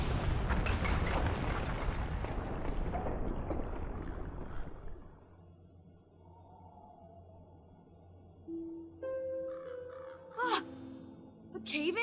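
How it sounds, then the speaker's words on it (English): A weapon-caused explosion in the video game Xenosaga Episode III, in an old forest mine on Miltia, bursts loud with crackling debris that fades over about five seconds, followed by quiet ambience and a few soft electronic tones. "No, this explosion was caused by weapons."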